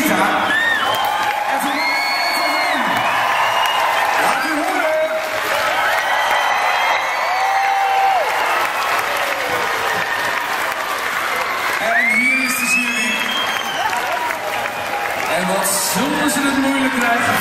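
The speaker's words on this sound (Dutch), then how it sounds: "applaus hebben voor Jane en voor Sita" A studio audience at a TV talent show applauds loudly and steadily, with whoops and cheers rising through the clapping and voices speaking over it.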